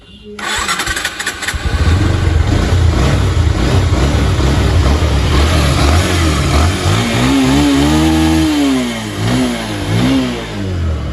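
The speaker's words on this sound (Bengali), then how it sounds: "গাড়িটার ইঞ্জিন সাউন্ডটা একটু আমি আপনাকে শোনায় দেবো" A Bajaj Pulsar motorcycle engine cranks on its electric starter and catches, then idles loudly and revs up and down several times close by.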